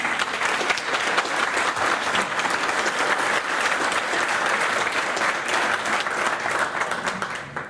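Sustained, dense applause from an audience at the National Press Club in Australia, loud and steady throughout with no speech over it.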